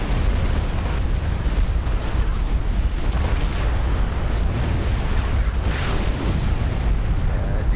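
Loud, continuous rumbling artillery explosions and blasts from the real-time strategy game Supreme Commander 2, a dense, booming barrage with no talking.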